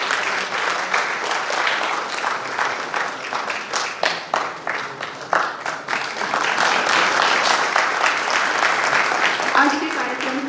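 Dense, steady applause from a crowd fills a Rani Durgavati University ceremony hall in Jabalpur, during a Corona awareness campaign exhibition and prize event, with some individual claps standing out and a voice briefly audible over the clapping.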